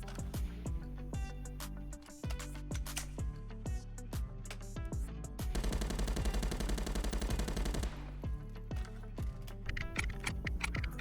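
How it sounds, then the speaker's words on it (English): Rapid gunfire in the video game Contractors, sharp repeated shots in bursts with a sustained stretch of fast automatic fire in the middle, loud and close with keyboard-like clicking between bursts. "as I'm just standing here shooting, the gun shoots pretty well"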